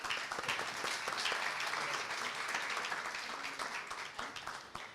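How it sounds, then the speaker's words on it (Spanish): Sustained audience applause at a university research week closing ceremony, dense and even clapping from a crowd that continues throughout before tapering near the end. "Un fuerte aplauso."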